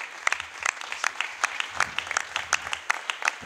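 A church congregation applauds for the Lord, a close, lively burst of many hands clapping unevenly, loud and sustained for several seconds.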